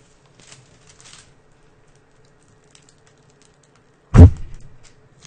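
A knife or cutter slicing through a block of handmade soap gives one short, loud thud of contact near the end, after a quiet stretch with faint tapping.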